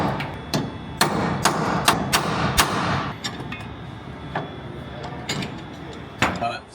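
Sharp metallic hammer strikes on a transfer punch, marking holes for a traction bar install on a Duramax truck, ring out close and loud, about a dozen taps in uneven bursts with brief pauses between groups.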